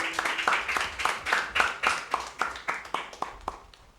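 A small group claps at a school quiz, a short burst of rhythmic, fairly sparse hand claps that fades out toward the end, with a faint voice at the start.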